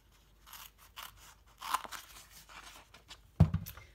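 Navy cardstock backed with an adhesive sheet is cut at close range, with quiet crunchy snips building to a louder final crunch.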